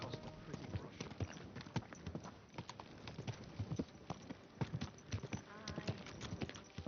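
Horse hooves clip-clopping at a steady walking rhythm in the video game Kingdom Come Deliverance 2, fairly faint, with occasional background voices.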